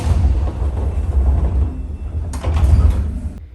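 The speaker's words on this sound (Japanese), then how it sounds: "扉が閉まります。" Sliding doors of a JR West 103 series commuter train close at a station platform, a loud rumbling slide followed by a heavier thud and then a sudden cutoff, with constant low engine hum underneath and no talk.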